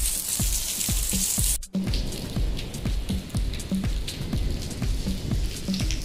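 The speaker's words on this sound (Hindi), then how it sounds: "ये देखिए कितनी तेज़ बारिश हो रही है, बिजली गरज रही है" Heavy rain pouring in Makkah, a dense steady hiss of drops on hard surfaces with frequent close drips and splashes, loud and continuous, no voices and no clear thunder.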